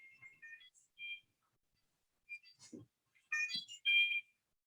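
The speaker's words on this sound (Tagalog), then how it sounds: "nag-alarm lang yung cellphone ko kasi meron kaming health check" A cellphone alarm set for a daily COVID health check sounds as a few short, faint electronic tones, then two louder bursts of beeping toward the end, with quiet gaps between.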